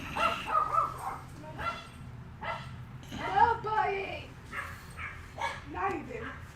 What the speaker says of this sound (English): He's out saying hi to neighbor dogs.